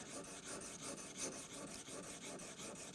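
Spokeshave blade being rubbed back and forth on a sharpening stone in a steady series of gritty strokes, close and quiet with no talking.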